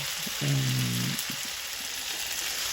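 Chicken pieces sizzle as they fry in hot oil in a pan for a Kerala-style chicken fry. The hiss is steady and crackling, with a brief tonal hum early on and no voices.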